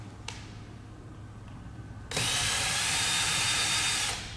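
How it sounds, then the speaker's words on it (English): A power drill backs screws out of the end cap on an RV awning roll tube. After a faint tick and quiet room noise, the drill starts abruptly and whirs steadily and loudly for about two seconds before stopping. "So there's 3 screws attaching the end cap to the roll tube. Take all 3 of those out."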